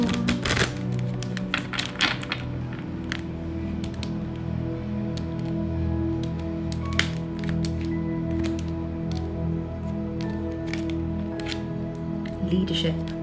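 Tarot cards being shuffled by hand during a reading, a run of crisp riffling and slapping card sounds over a steady low background hum, with some louder snaps near the start and end.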